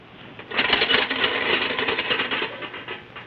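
Rapid metallic rattling and clanking, a studio sound effect imitating a heavy anchor chain running out, continuous for about three seconds with uneven bursts, no talking.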